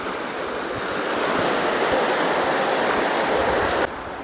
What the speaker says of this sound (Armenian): հասա գետի մոտ